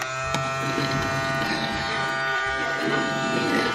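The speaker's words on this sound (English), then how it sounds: "This vacuum cleaner is supposed to also clean floors" A household vacuum cleaner runs on a floor, giving a continuous, loud, steady motor whine with a slight buzzing edge and a few faint knocks as it moves.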